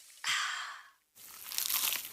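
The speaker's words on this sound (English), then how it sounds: "Is that the sound of an ooey gooey, cheesy, crunchy slice of P-I-Z-Z-A?" Two crunchy bites into a cheesy pizza slice, each a close crackling crunch separated by a short pause, with no talking.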